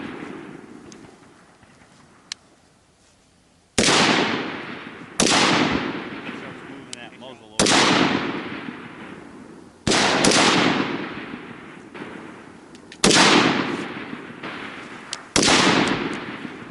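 Six sharp rifle reports ring out one by one at a shooting range during long-distance target practice, each loud crack trailing into a decaying echo, spaced a couple of seconds apart.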